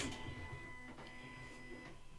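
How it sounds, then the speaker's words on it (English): Office printer on a desk, accidentally set off by an elbow: faint mechanical whirring with a few clicks and tonal motor hums in a quiet room, with no clear talk. "Dang it, I keep setting off my printer."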